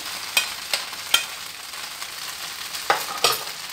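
Sausage filling stirred in a pan with oil, a spoon scraping and clacking in short separate strokes over a faint, steady sizzle, close and fairly quiet, with no talk.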